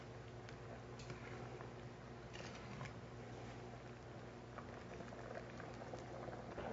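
A pot of French onion soup at a rolling boil, with steady dense bubbling and fine popping that keeps up throughout, close and fairly quiet, with no voices.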